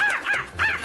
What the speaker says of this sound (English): That bird is feisty.